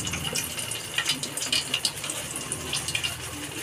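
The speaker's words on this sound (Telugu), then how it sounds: "ఆయిల్లో వేసేసుకుందాం గారిని" Urad dal vadas (garelu) slip into hot oil and bubble and crackle nearby, with a constant frothy hiss broken by sharper popping bursts partway through.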